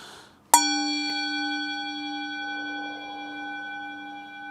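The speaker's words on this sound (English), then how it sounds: "Are we ready to ring the gong?" A single strike on a gong rings out sharply, then its shimmering tones sustain and slowly fade over several seconds in a quiet room.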